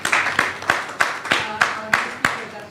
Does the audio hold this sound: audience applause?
yes